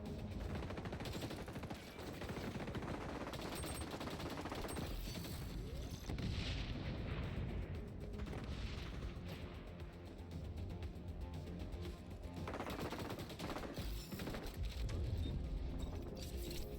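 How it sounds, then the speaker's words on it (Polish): M16 fired in bursts in the video game XDefiant: dense, loud, continuous gunfire fills the clip, with sustained rattling shots and heavy booms blending throughout. "Jednak do tego M16. Nie wiem dlaczego, ale w grach serią strzela."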